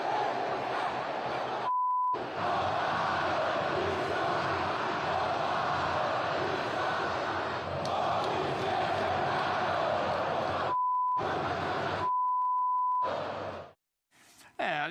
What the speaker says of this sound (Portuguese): muitas vaias, olha aí.